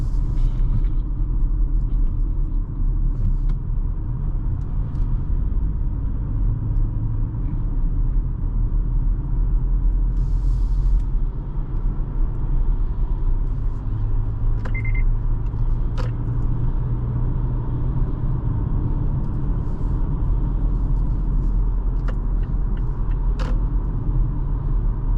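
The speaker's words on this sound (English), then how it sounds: "Good suspension tuning, absorbs all of these" A 2025 Mazda CX-5 GS rolls over road bumps, giving a steady low cabin rumble with faint suspension thuds and small creaks throughout, and no voices.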